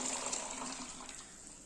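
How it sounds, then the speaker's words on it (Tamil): Hot water poured over chicken biryani in a pot before sealing it for dum cooking, a steady close splashing pour with a hissing wash that runs evenly for under two seconds, with no talk. "சுடுதண்ணி சேர்த்துக்கிறோம் மேலே தம்முக்காக."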